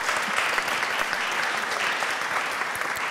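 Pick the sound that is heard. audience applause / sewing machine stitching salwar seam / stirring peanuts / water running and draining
audience applause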